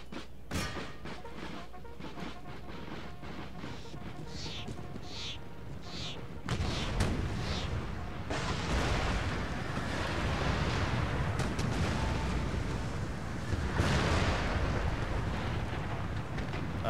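Artillery cannons fire during a battle in the strategy game Empire Total War with the Darthmod mod, Poland-Lithuania fighting for East Prussia. Scattered booms start sparse, then become a dense rumbling barrage.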